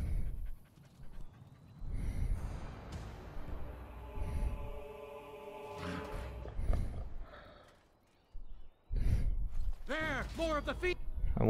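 A rescued pup pants in the Dragon Age: Origins video game, with quick breathy huffs and some mechanical creaks mixed among game effects, followed near the end by a brief spoken voice.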